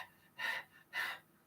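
A voice imitates a UFC fighter gasping for air after looking horrible at weigh-ins: two sharp, breathy gasps a half-second apart, close and fairly soft.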